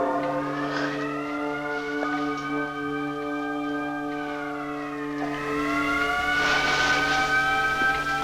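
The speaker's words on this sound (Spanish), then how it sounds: "mientras escuchamos las sirenas de fondo" Sirens wailing in the background of a 1974 film scene from The Yakuza, several overlapping rising and falling tones held steadily under a low hum, swelling louder toward the end.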